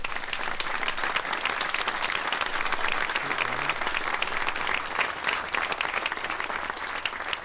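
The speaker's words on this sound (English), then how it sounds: "how about a quick round of applause for them." Sustained applause from a large audience at a U.S. Army Forces Command military change of command ceremony, a dense, steady wash of clapping filling the whole stretch without speech.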